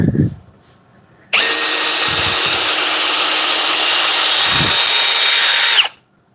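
A Milwaukee power drill runs at low speed in one continuous, loud burst of about four and a half seconds, starting and stopping abruptly, with a few short thumps and brief voice sounds in the quiet before and after.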